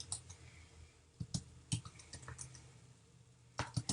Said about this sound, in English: So I'm going to start typing the text I wanted to have in here.